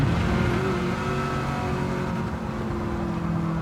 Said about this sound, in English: You can see Ads letting off the throttle quite a lot into the entry of turn 9